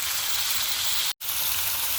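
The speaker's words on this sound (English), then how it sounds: "you can see our liver and kidneys have begun frying" Liver and kidneys sizzle and fry steadily in a pan for a Kenyan dish, a dense close crackle with one brief silent break partway through.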